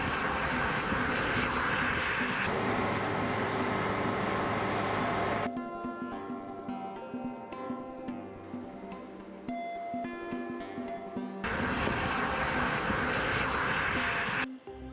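A C-5 Galaxy military transport aircraft roars with a heavy, steady engine drone that cuts abruptly between sections, loud and continuous throughout with no voices.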